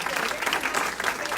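A crowd at a political debate in Cape Coral gives a standing ovation, with sustained dense clapping and a voice speaking over it.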